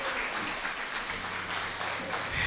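Crowd applause at the Ake Festival 2019 welcome ceremony, a steady wash of many hands clapping at moderate level, slightly distant, with a low hum underneath.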